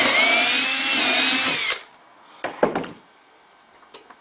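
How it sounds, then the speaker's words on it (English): A power drill whines steadily for under two seconds while boring a dowel hole in wood, then cuts off, followed by a few soft knocks and clunks of handling wood. "and drill the next hole."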